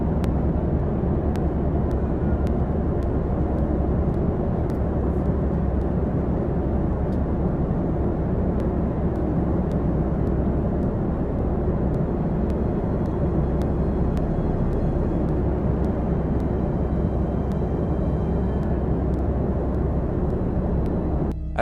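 A steady, loud cabin roar of an airplane in flight, heard from a passenger window seat, holds a constant low rumble and airflow hiss without change for the whole stretch.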